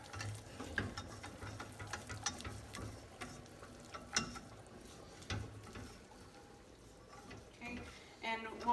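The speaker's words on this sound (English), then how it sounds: "we're going to go ahead and give this a stir and incorporate it all the way" A spoon stirring flour into melted butter in a pan to make a roux for béchamel sauce, giving soft scraping and a light sizzle with faint ticks, quiet and close.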